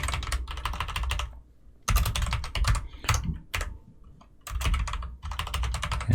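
Someone types on a computer keyboard while writing code for a Unity game tutorial, in rapid close bursts of clicking keys broken by short pauses.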